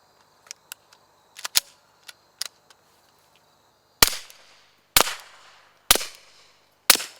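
Suppressed shots from a CZ452 rifle with an integral suppressor: a few light clicks and small cracks, then four sharp, muffled reports roughly a second apart, close with a short decay.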